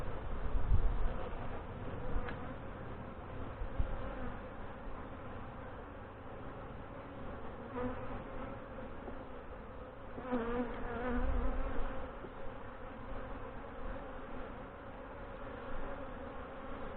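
Honey bees buzz in a dense, continuous drone during a hive inspection, close and steady throughout with faint handling noises and no voices.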